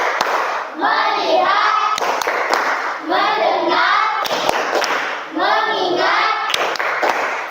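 A class of students performs the rhythmic "tepuk fokus" clapping ice-breaker, with patterned handclaps alternating with group chanting in three close, loud rounds.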